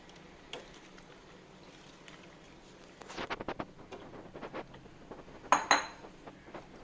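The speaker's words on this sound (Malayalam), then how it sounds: "ഇനി ഇതിൻ്റെ അകത്തോട്ട് നമ്മൾ നേരത്തെ കുക്ക് ചെയ്ത് വെച്ചേക്കുന്ന ആ പാസ്ത ഇട്ട് കൊടുക്കാം" Cooked pasta is tipped from a container into white sauce in a pan, giving a burst of soft wet pattering and scraping with sharp clinks of utensil on metal, fairly quiet and close.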